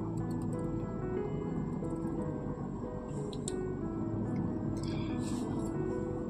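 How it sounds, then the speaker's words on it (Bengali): Ground snake gourd paste fries in a pan while being stirred, a dense continuous sizzle with wet squelching, loud and close throughout. "চিচিঙ্গা বাটাটাকে কিন্তু খুব ভালো মতো করে ভেজে নেব"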